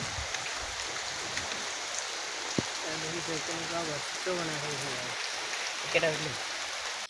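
Steady broadband hiss of rain falling on a surface, with a few low harmonic tones and a sharp tap partway through.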